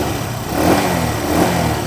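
A Honda SH 150 scooter engine runs after maintenance, giving a steady, smooth mid-pitched drone at close range with slight swells in loudness and no talking.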